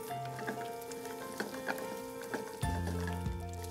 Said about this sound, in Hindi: तो ये मिर्ची और गार्लिक का पेस्ट, धीरे धीरे भूनना है इसको